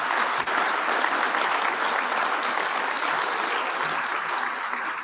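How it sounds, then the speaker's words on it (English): Sustained applause from a ceremony audience for new veterinary medicine graduates, dense and even clapping filling the hall without a break. "Please join me in giving them a round of applause for"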